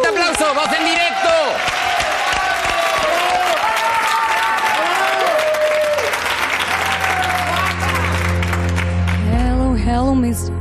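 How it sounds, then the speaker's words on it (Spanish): A live television audience applauds and cheers loudly and continuously as the Spanish Eurovision entrant is introduced to sing, with the crowd noise blending into music and singing. "¡Fuerte aplauso!"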